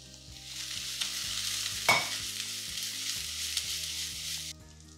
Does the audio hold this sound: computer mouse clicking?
no